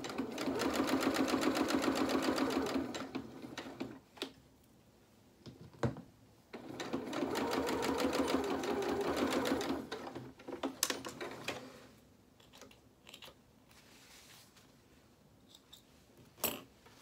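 A sewing machine runs a shirt seam in two long bursts of steady rapid stitching, with short pauses and light handling clicks between and after them.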